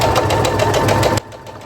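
A domestic sewing machine runs steadily at second speed with a fast, even mechanical chatter, close and loud, then stops abruptly, leaving only quiet room tone.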